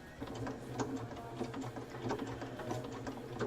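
A sewing machine runs a locking stitch while finishing a quilted hexie coaster mug rug. It gives a quiet, rapid, even mechanical chatter that continues steadily throughout.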